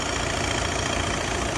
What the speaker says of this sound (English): The sound of, there's the turbo.